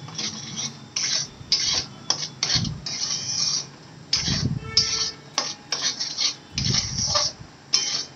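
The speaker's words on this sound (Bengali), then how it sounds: "দিয়ে দিচ্ছি একটু কাশ্মীরি লঙ্কা গুঁড়ো, দিয়ে ভালো করে মশলাটা নাড়াচাড়া করে নিচ্ছি" A utensil scrapes and stirs a spice masala with Kashmiri chili powder in a pan for snail chochchori, making repeated short, close scratching strokes in an irregular rhythm, with no talking.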